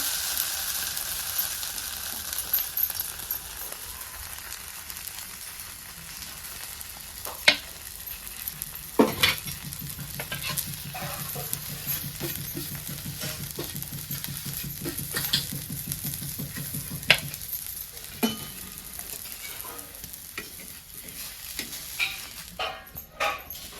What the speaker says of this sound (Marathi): दोन्ही साईडला छान असं भाजून घ्यायचं आपल्याला